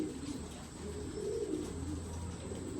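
Pigeons coo softly and low over a faint background hum, a short, murmuring stretch just after feeding.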